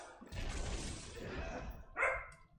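A pet dog lets out a short, muffled bark or yip near the end of a brief stretch of soft rustling noise, fairly quiet overall.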